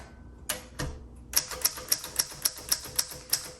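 Keys struck on a 1960 Royal Diana vintage typewriter, sharp clacks in a steady, fairly even rhythm after two isolated strikes, close and clear with no talk.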